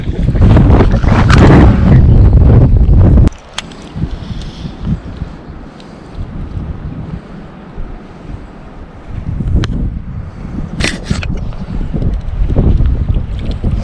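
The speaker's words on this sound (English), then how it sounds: "the wind's still blowing" Wind gusting across an open bass fishing boat on Toledo Bend during a tournament, a loud roaring buffet of microphone wind for the first three seconds, then steadier lower rushing with brief sharp knocks and another strong gust near the end.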